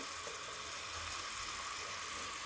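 Capsicum, onion and carrot frying in oil for pasta, a steady, dense sizzle that holds evenly throughout with no talking.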